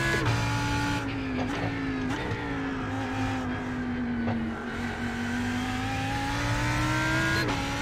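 A Lamborghini Huracan EVO GTE race car at night at Daytona, its engine droning steadily from inside the cockpit with shifting pitch and a few sharp gear-change blips, fairly muffled and without talk.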